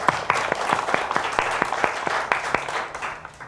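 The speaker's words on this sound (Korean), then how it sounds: "격려의 박수를 한번 주시기 바랍니다" Audience applause at a Christian forum forms a sustained, close clatter, with several sharper individual claps standing out before it tapers off at the end.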